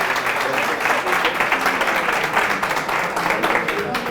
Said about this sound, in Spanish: un aplauso para Mariano.